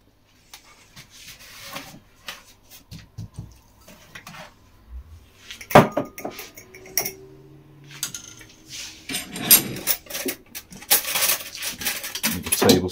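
Metal spoon clinks and scrapes against a pot while stirring thick semolina pudding made with milk and sugar, irregular knocks and scrapes near the mic, busier toward the end.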